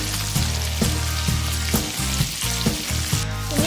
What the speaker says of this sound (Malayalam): ഓരോന്നായി ചിക്കൻ ഇട്ടെടുക്കാം. ഫ്രൈ ചെയ്തെടുക്കാം.